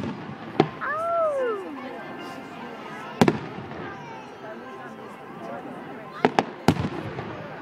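A fireworks bomb bursting at a speedway fireworks display in Rotorua, with several sharp, loud bangs spread through the clip, one doubled near the end, over whistling rising shells and a murmuring crowd with people talking.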